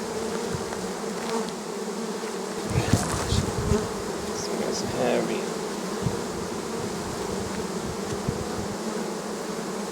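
Honey bees buzz steadily around a hive frame heavy with capped honey, a dense close drone with individual bees passing near, while a person speaks briefly over it.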